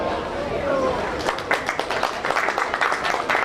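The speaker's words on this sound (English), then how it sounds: "Big round of applause." Applause rising at a county fair swine show, a crowd clapping in quick, dense bursts that start about halfway through and continue beneath a voice over a loudspeaker.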